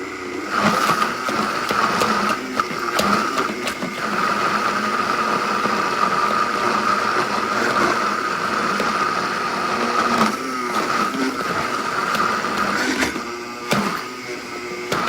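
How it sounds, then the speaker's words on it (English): A Vitamix blender crushes ice for red, white and blue cocktails, a loud steady whirring motor running throughout with rattling grinding texture and small surges. "How many of you have this same struggle when you're trying to blend in the Vitamix?"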